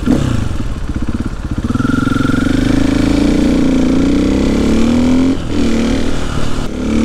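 A motorcycle engine revs loudly and steadily inside a shopping mall, its close, throbbing drone rising and falling in pitch with a brief dip near the end.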